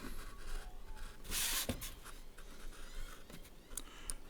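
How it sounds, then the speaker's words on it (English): Blade cutting a fine line in an airbrush stencil for a skull design, soft close scratching and rasping strokes with a louder burst of scraping in the middle, faint and steady otherwise. "you can come back in and go really close to your first cut"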